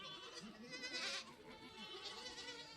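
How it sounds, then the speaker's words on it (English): A couple of goats on a farm bleat in a few wavering, nasal calls, close and fairly clear, with no talk over them. "A couple of goats."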